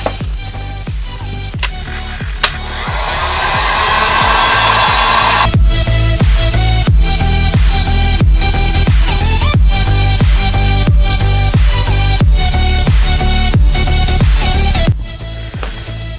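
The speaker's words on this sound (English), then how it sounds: "The heat gun." A heat gun blows hot air while a custom Jordan 1 sneaker is worked on, a loud constant fan-and-air rush that runs under a steady beat of background music.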